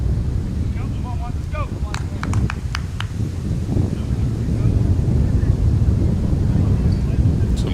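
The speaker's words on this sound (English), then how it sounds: "Some wind picking up here." Gusty wind at an outdoor 17U baseball game rumbles steadily into the microphone as low buffeting, rising slightly toward the end, with brief faint knocks and crowd sounds early on.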